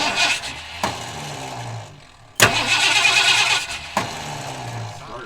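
A starter motor cranks the engine of a 1978 Ford F150 pickup that has sat unused for years, grinding loudly in two long bursts separated by a short pause, with sharp clunks at the start of each burst and no talking.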